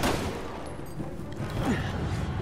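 Rapid gunfire in Resident Evil 6, a dense volley of shots cracking over a rumbling game background, with faint voices mixed in.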